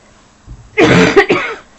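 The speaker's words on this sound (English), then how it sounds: "I've still got a bad cough." An adult with a lingering bad cough coughs sharply in a quick burst of two or three harsh hacks, loud and close, with no speech over it.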